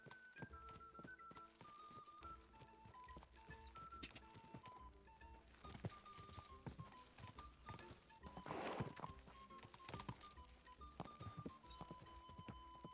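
Rhythmic clip-clop of horse hooves at a steady gallop in Kingdom Come: Deliverance II, close and continuous over game music, with a brief louder burst midway.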